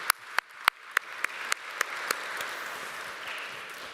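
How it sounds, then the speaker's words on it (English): A handful of sharp claps at a live event with an audience, fading into a soft, diffuse wash of applause. "A big round of applause for the panel."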